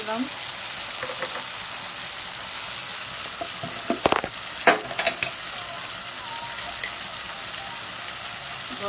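Food frying and being stirred in a hot pan on a stove, a steady loud sizzle with scraping stirs and a few sharper clatters near the middle, no voice.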